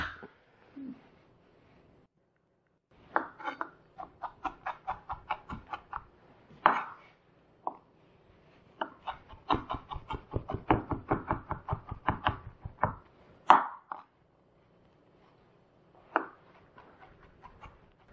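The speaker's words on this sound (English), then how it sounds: "Now I am going to hit it harder to actually crush it." A knife blade strikes a garlic clove against a cutting board, giving several clusters of sharp, quick knocks and taps separated by pauses, close and fairly quiet.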